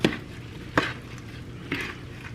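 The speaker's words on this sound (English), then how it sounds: "go ahead and mix it up" Apple pie filling is stirred in a pot, giving a few soft scraping clinks over a low sizzle, quiet and close with no talk.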